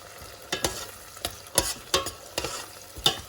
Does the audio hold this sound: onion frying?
yes